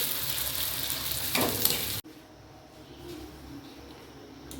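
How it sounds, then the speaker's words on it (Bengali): Luchi fry in hot oil with a dense, steady sizzle for about two seconds. The sound then cuts off abruptly to a quieter room background. "ভাজছি লুচি"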